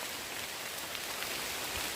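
Rain falls steadily in a forest during mushroom picking, a soft continuous hiss of drops on leaves and ground, moderately faint and even, with no voices.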